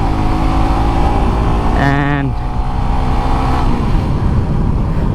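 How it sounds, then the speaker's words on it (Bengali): A Suzuki GSX-R 150 motorcycle being ridden, its steady engine drone continuous throughout and close, with a brief rising whine in the middle and someone talking over it. "GSX-R মোটামুটি ফার্স্ট টাইমই বলা চলে রাইড করতেছি"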